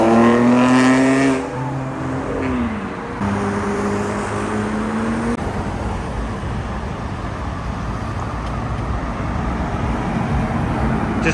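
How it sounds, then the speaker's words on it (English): Cars revving and roaring past on Park Lane in London during the Gumball 3000 arrivals, loud close engine notes rising and falling, then a steady wash of traffic noise. "As usual, we have boy racers."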